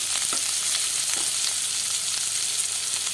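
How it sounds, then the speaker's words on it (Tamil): Steady, dense sizzling of onions sautéing in a hot pan, continuous and close, with a few soft stirring scrapes and no talking. "இதை வந்து நல்லா வதக்கிடலாம்"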